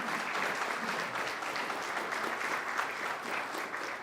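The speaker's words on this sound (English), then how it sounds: "So if we can get a round of applause." Steady applause from a sizable crowd fills the whole stretch, dense and even, with no break in the clapping.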